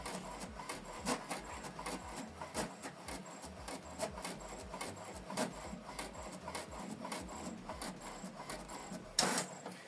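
An HP Deskjet 2922 inkjet printer printing, with steady rhythmic mechanical clicks and rasping carriage passes repeating close by, ending in a sharper clunk.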